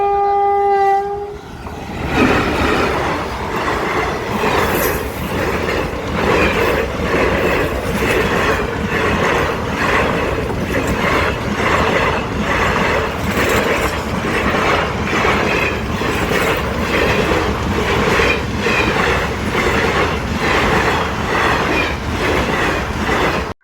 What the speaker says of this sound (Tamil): ட்ரெயின் வரும்னு சொல்லிட்டு கேட்டு போட்டாங்க